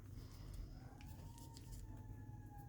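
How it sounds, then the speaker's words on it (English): A siren wails faintly in the distance outside a house, its tone sliding slowly downward as it passes, over a low hum of background noise. "We have a siren going by my house."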